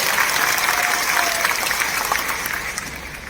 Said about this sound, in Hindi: अगर मन करे तो ताली बजा लिया करो, दिल खोल कर